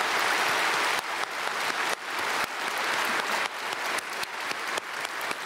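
Sustained applause from a church congregation during a Sunday worship service, dense and steady across the whole stretch with no speech over it.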